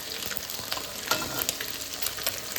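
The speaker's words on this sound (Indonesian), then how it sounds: "Ini dia ikan terinya yang mau kita masak, yang sedang kita goreng maksudnya." Anchovies frying in a pan of hot oil, a steady close crackling sizzle with scattered sharp pops throughout, no voices.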